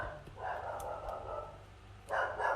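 A pet dog barks indoors in two bursts, a longer run of yips followed by a shorter, louder flurry near the end, close by in a quiet room with no one speaking.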